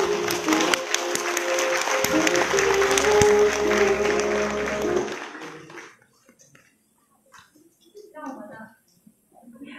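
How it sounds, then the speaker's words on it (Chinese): Audience applause welcoming a performer at an indoor appreciation and sharing event in Fengyuan: dense, steady clapping fills the first half, then fades into sparse murmurs and quiet room noise. "让我们掌声欢迎"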